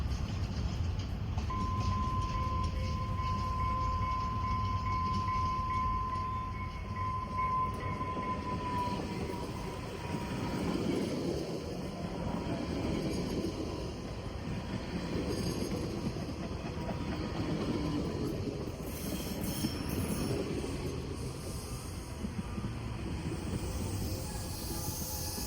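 A double-decker commuter train on a scenic coastal route in Canada rumbles steadily along the rails, with continuous low wheel noise, a brief high squeal early on and a sustained moderate roar, no voices heard.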